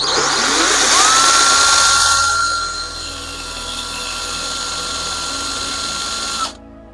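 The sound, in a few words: electric drill spinning a small motor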